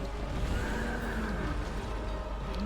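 A horse in the video game Dark Souls II neighs in a drawn-out whinny over a steady bed of game ambience, with no talking.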